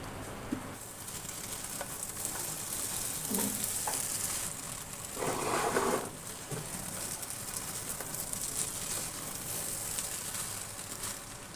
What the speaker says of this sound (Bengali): হাই ফ্লেমে রেখে 2 মিনিট ভালো করে ভেজে নেব